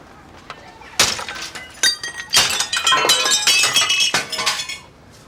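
Glass shattering during a forced break-in at a house, several separate crashes and tinkling fragments in a run of bursts lasting a few seconds, close and loud.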